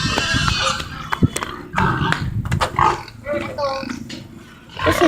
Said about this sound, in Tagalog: Punta natin yung baboy kasi nag-iingay na sila.